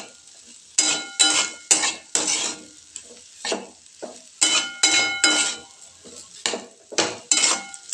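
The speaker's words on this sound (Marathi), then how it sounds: "सगळ्या आपण जे काही घातलेलं आहे मसाले वगैरे व्यवस्थित परतून घेते" A spoon stirs and scrapes turmeric, coriander powder and garam masala frying in a pan, with close, repeated metallic scraping strokes in an uneven rhythm over a faint sizzle.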